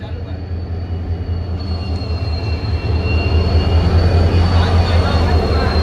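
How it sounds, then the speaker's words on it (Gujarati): A steady, loud rumble of a train going by, with a constant low roar and faint high whine that grows slightly louder. "આમ ટ્રેન આવી છે"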